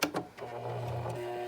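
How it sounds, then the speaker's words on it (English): A sewing machine runs steadily, stitching through thin mask fabric. After a couple of quick starts it settles into a continuous close mechanical hum with no talking. "it's kind of a big ask from a sewing machine"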